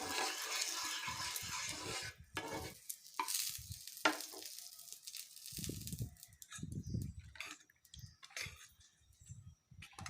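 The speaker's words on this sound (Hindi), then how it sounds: "अब थोड़ा सा मैं तेल डाल दूँगी और इसको फैला दूँगी तवा पे।" Oil spread across a hot tawa griddle while preparing a rice-and-lentil uttapam, sizzling in short bursts with scraping strokes, close and moderately loud, no talking.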